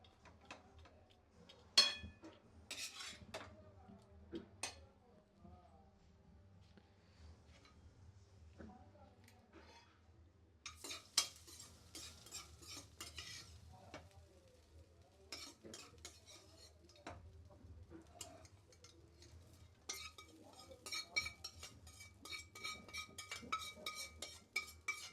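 Pulihora is stirred in a pan on a stove over low heat, with quiet intermittent metallic scrapes and clinks of the spoon against the pan, some bursts busier than others, over a low steady hum.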